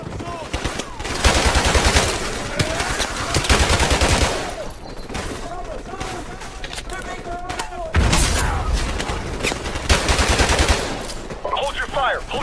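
Bursts of automatic gunfire and single shots crackle through a Call of Duty Modern Warfare firefight, loud and dense in two long volleys separated by a calmer gap, with soldiers shouting over the shooting.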